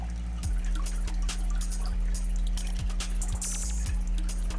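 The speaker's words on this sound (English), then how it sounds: "you can dump a little bit of water out." Water is poured out of a fish bag into a bucket, giving a continuous soft trickle and splash with small intermittent clinks and drips, fairly quiet and close, with no talk.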